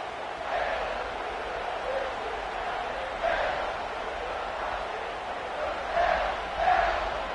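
A high school football stadium crowd cheers after a successful extra point. Rolling, somewhat distant crowd noise rises in several brief surges of shouting over a constant hubbub.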